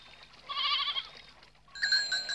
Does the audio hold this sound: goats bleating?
yes